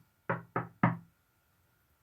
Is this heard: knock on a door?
yes